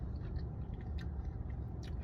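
Someone chews crunchy Raising Cane's chicken fingers close to the mic, a continuous soft crunching and mastication with faint bite clicks, no talking.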